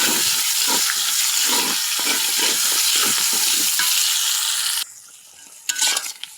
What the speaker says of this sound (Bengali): আর এখানে এই যে পেঁয়াজ ভাজতে দিচ্ছি